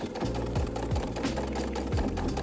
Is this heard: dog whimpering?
no